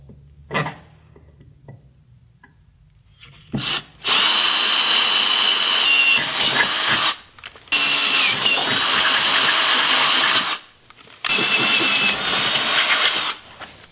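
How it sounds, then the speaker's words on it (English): A power drill whirs in three sustained bursts of several seconds each, drilling 5/16-inch holes for Jeep Cherokee XJ rock sliders, loud and close, separated by short pauses, after a couple of faint knocks. "I'll start drilling those 5/16 holes"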